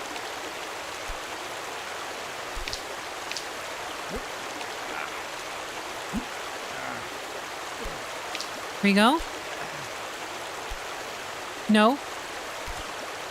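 Steady rushing water flows throughout a climbing video game scene, a continuous wash of stream-like noise with a few sharp swooping game effects, as a person speaks briefly over it.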